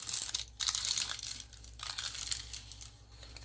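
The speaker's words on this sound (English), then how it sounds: "because it's just way too crinkly for me" Stiff, crinkly plastic window being peeled off a coffee-dyed paper project, a close, continuous crackling and crunching with rustling bursts and no voices.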